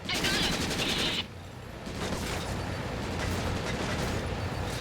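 Automatic gunfire in Syphon Filter: Dark Mirror, a loud rapid burst for about a second that drops into a dense, noisy rumble of continued firing and explosions, with a brief voice over the mix.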